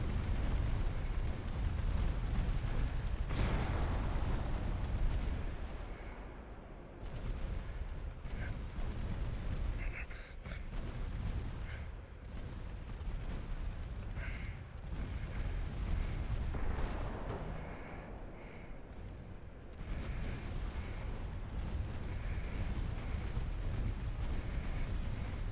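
Naval guns firing in Ultimate Admiral Dreadnoughts, light 2.9-inch guns trading shots with light cruisers at short range: repeated heavy booms and rumbling blasts roll under a constant loud battle din, with no pauses.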